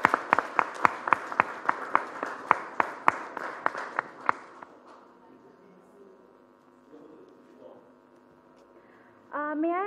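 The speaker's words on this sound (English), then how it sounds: "Can I have a round of applause to welcome him?" A short burst of audience applause at an international commercial arbitration session, with sharp individual claps, fading out into quiet room tone before a voice begins.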